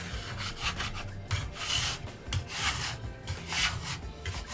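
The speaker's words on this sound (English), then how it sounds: "I can scrape it clean" Scraping a wooden cutting board clean with rhythmic back-and-forth rasping strokes, close and moderately loud, with no talking.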